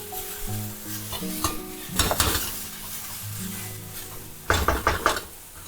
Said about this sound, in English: you'll start coughing with this stir frying of the chili